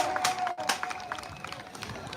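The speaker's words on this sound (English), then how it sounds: "So let's give them a big round of applause." Audience applause for the champions at a basketball finals between PR Thunder Kings and CR Bombers in Dominica: a faint, scattered patter of clapping from a distant crowd, brief and uneven.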